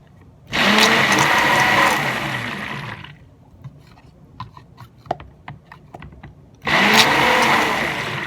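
Black activated charcoal is blended into cold process soap batter with a stick blender, two loud whirring bursts at the start and end separated by quieter clicks and taps of stirring.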